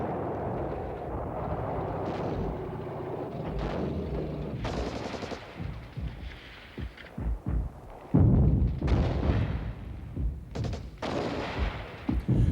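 Artillery and machine gun fire in 1967 Six-Day War combat on a steep slope against Syrian strongpoints: bursts of rattling gunfire and heavy thuds, rumbling at first, then sharper separate blasts and volleys, loud and near.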